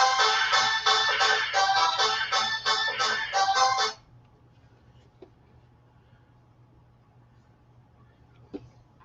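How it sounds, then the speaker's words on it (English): A phone ringtone rings loud and close in a rapid repeating electronic pattern for about four seconds, then cuts off and leaves a quiet room with faint hum and a couple of small clicks. "And there goes my phone."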